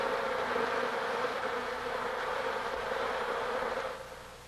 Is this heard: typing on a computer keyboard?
no